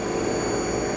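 A Haas TM-1 CNC toolroom mill spindle spinning at 3,000 RPM gives a steady, loud mechanical whine with a constant drone and no variation over a brief stretch.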